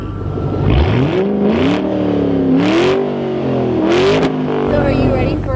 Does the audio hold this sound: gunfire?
no